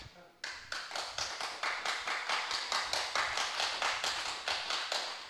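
At a church summer gathering, an audience claps together in a steady, rhythmic beat of sharp, evenly spaced claps that begins abruptly and holds a brisk tempo throughout.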